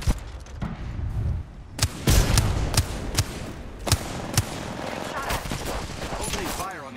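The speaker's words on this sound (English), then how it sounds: "Opening fire on the enemy. The enemies are shooting at me." Gunfire from the video game Apex Legends: repeated loud shots and bursts crack out in an uneven rhythm over a dense layer of game noise, with several sharp single reports standing out near the middle.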